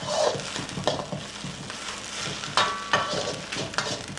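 Kale being stir-fried with eggs for Thai fried rice, a steady close sizzle with irregular scraping stirs and clatters of the utensil against the pan, no talking over it.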